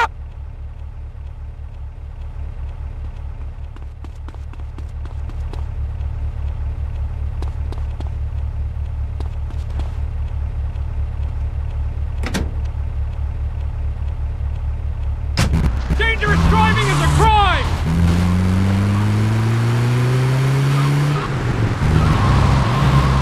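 A car drives through a Vice City mission in GTA, its engine a steady drone with scattered sharp cracks, until a burst of revving, skidding tires and rising engine whines takes over in the second half, loud and busy.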